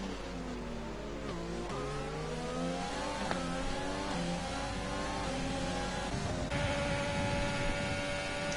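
Formula race cars scream down a straight in a racing video game, engines rising through the gears with repeated upshifts, several cars layered together at steady loudness.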